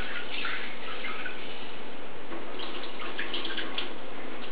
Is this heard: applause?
no